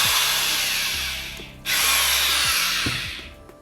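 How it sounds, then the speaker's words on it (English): Electric drill with a brush attachment cleaning solder joints, whining steadily, dipping briefly around mid-way as the load changes, then spinning back up loudly, with light scraping contact noises. "just a regular drill that I use to clean up solder joints with"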